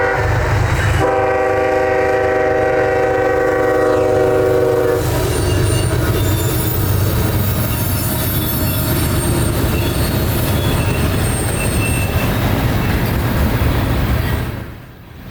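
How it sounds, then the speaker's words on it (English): An ethanol freight train passes close on the Etowah sub in northern Georgia in winter, its horn sounding a sustained chord for several seconds over loud rumbling, squealing and clacking wheels that continue until the roar drops away at the end. "this was the first ethanol train to come down the Etowah sub in a few months"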